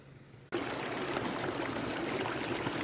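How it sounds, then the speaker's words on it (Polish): After a brief quiet moment, a steady rushing mountain stream sets in, loud and continuous, flowing over rocks in a forest with no voices. "Teraz znowu przy samym potoku."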